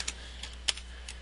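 A few soft keystrokes on a computer keyboard, four or five light, separate clicks spaced unevenly over about a second, quiet and close.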